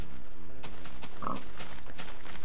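Pigs in the Minecraft video game grunt and oink in short, close snorts that repeat over a dense, busy game background.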